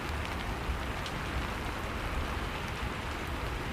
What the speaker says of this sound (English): Hear the rain. Let it keep tapping the roof.